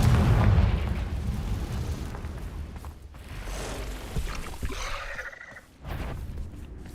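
Spell-cast explosions in a Harry Potter video game burst out in a loud, booming blast at the start, followed by crackling impacts and further rumbling pops across the fight.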